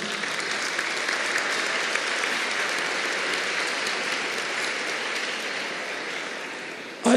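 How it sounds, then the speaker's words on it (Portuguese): A lecture audience claps in steady, sustained applause that fills the room for several seconds, then breaks off abruptly. "agora vocês me aplaudiram"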